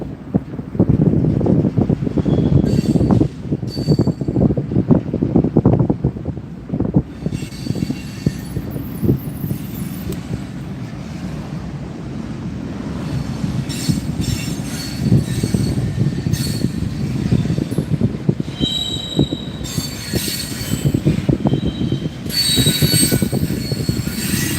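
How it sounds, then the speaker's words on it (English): A long train rolls past on city tracks in New Orleans, wheels squealing loudly and continuously over a steady rumble, heard up close from a bicycle with wind buffeting the microphone. "Oh, and look, a train."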